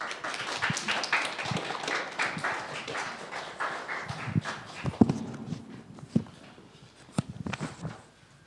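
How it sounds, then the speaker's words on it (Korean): A church congregation claps to welcome a pastor coming forward, with a burst of fairly close handclaps that thins into scattered claps and footsteps. "나오실 때 큰 박수로 환영해 주시면 감사하겠습니다"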